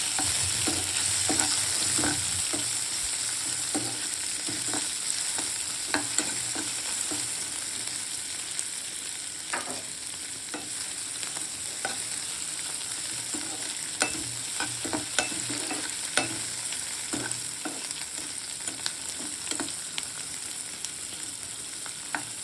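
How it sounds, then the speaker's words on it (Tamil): Steady frying sizzle as onions and tomatoes are sautéed for Chettinad prawn gravy, a pan being stirred, scattered scraping clicks of a utensil throughout, no voices. "நம்ம நறுக்கி வச்சுருக்க வெங்காயம், தக்காளியை சேர்த்து அதோட நல்லா வதக்கணும்"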